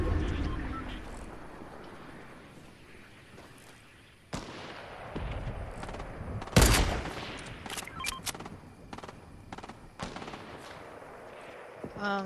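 Rockets and gunfire in the Fortnite video game: a sharp blast, then a loud explosive burst followed by rapid bursts of shots and more distant cracks over continuous game ambience.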